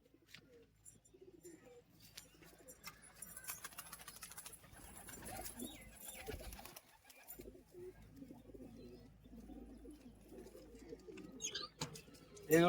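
Madras pigeons cooing softly, a faint, continuous murmur of coos with scattered chirps and light rustling in the background.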